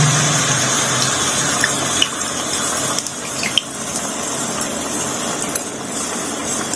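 Wheat flour sweet appam batter ladled into hot oil, a steady loud sizzling hiss of frying with a few small pops and crackles throughout.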